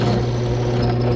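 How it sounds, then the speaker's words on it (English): A drill steadily boring small holes in soft aluminum, a loud continuous motor whine with a strong low hum held for the whole moment, no talk. "When you're drilling, you want to drill down a little bit and then let up."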